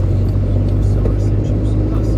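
A Skoda Fabia engine pulls under acceleration in third gear, a steady, loud drone with a strong low hum running unbroken through the cabin, and faint talk may sit beneath it.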